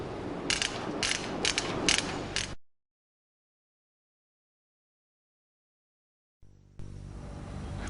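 Ratchet screwdriver mechanism clicking, a busy, close run of mechanical ticks and whirring clicks at the start, then silence, then a faint mechanical rasp resuming at the end.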